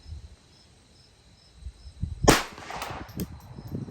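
A single sharp gunshot cracks out over a chronograph at a shooting setup, sudden and loud after a quiet lead-in, with a short ringing tail and some light handling noise after it.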